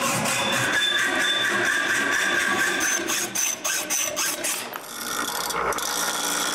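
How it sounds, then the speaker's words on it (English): A rusty steel flat bar, cleaned of rust, is cut in a workshop with a continuous rasping, grinding drone that holds steady, then breaks into choppy bursts and thins out toward the end. "I mark and cut the metal."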